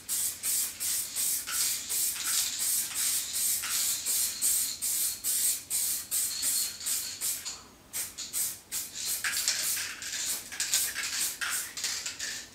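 A spray can sprays metallic car paint onto a car repair in a series of close, loud hissing bursts, each a second or so long, separated by brief gaps, with one longer pause midway.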